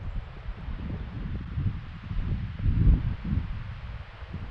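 Gusty wind buffets the microphone with low rumbling, swelling and easing over several seconds, with a faint rustle mixed in.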